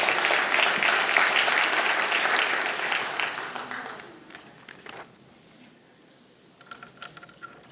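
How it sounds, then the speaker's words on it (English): Audience applause at a Hermosa Beach State of the City address, a dense, steady round of clapping that swells for several seconds, then thins out and fades into scattered claps and room noise. "All right, one more round of applause."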